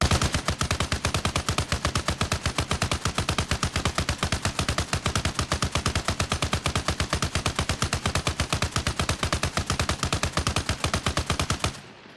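Machine gun in Arma Reforger emptying a full belt magazine at a tank, a long, loud, unbroken stream of rapid shots lasting about twelve seconds before it stops abruptly.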